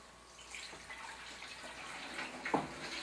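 Vinegar trickles and splashes steadily into a front-load washing machine's dispenser, a soft continuous pour with a brief brighter splash near the end.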